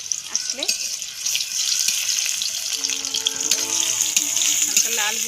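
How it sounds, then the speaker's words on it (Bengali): Chopped onion frying in oil for a soybean mince dish, a close hissing sizzle with clinks of a utensil and stirring, continuous with some scattered tonal clatter. "তেলে সামান্য পেঁয়াজ দিয়ে দিলাম।"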